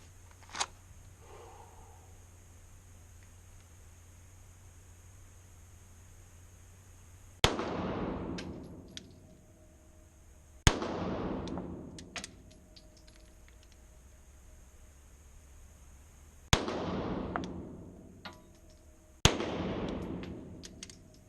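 Four sharp pistol shots fired at five yards on an outdoor range, each a loud crack with a ringing decay, in two pairs separated by pauses, with quieter clicks and handling between.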